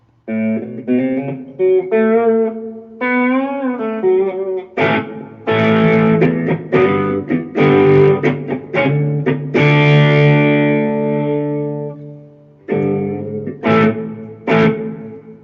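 Electric guitar played through a Line 6 Pod Go pedal into a Fender Champion 20 solid-state amp, with heavy built-in reverb and distortion; sustained chords and single-note phrases ring out loud and close, with no talking.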